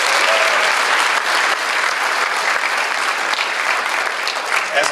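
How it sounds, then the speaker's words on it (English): A school audience at a senior honors evening gives a loud, sustained round of applause for JROTC cadets, dense clapping that fills the whole stretch with a crowd murmur beneath. "Give them a round of applause."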